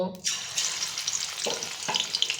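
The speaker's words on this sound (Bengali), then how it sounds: "এখন আমি মাছটা ভেজে নেব।" Fish sizzles and spits steadily in hot oil in a pan for winter-vegetable cooking, a dense continuous crackle with two short bursts of stirring or shifting near the end, close and alone.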